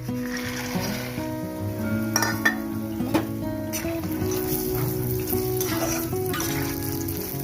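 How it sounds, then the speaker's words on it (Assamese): Raw peanuts frying in oil with a low steady sizzle, punctuated by clinks of a utensil against the pan and a persistent hum in the background. "এতিয়া এইখিনি তেলতে বাদামখিনি মই ভাজি ল'ম।"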